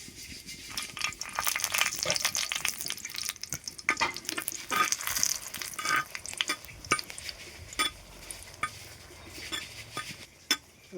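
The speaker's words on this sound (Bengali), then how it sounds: "শুকনো লঙ্কাগুলো আমি ভেজে নেবো এবার।" Dried red chilies fry in oil in a pan for bhindi bharta, with repeated clinks and scrapes of a utensil stirring against the pan over a soft background hiss, with no talk.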